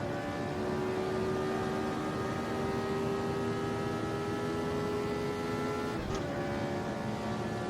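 A steady Formula Retro racing car engine drone hums continuously with sustained tonal whine, fairly distant and even, with a brief shift near the end, at a Johannesburg circuit.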